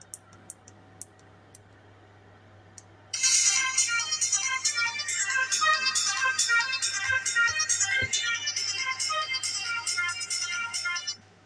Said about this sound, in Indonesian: Oke lah, itu ringtone-nya guys ya.